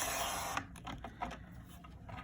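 Cardstock being cut for a handmade Christmas card, likely with a paper trimmer, a brief steady slicing rasp at the start followed by a few soft scraping and sliding noises, close and quiet.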